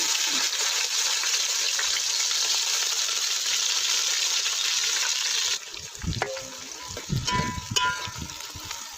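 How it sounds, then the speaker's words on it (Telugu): Hot oil sizzles loudly and steadily for a fish curry. Partway through, onions hit the pan, and the hiss turns into clattering, stirring and sputtering frying. "ఆయిల్ వేడెక్కింది మనం ఇప్పుడు ఉల్లిపాయ"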